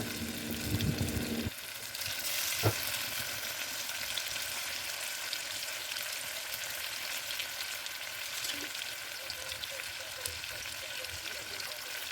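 Chicken leg piece and small chunks of meat frying in hot oil, a steady broad sizzle running throughout after a brief louder opening splash, with no talking.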